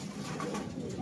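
A racing pigeon hen with a leg band gives a soft, brief coo, faint against quiet surroundings.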